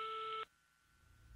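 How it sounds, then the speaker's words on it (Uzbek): A telephone handset tone heard while placing a call: one steady, loud multi-tone beep that cuts off abruptly, leaving a faint quiet line with low rumble afterward. "telefon iling'ich bo'lgan orliqdagi har bir tit-tit qilgan ovoz"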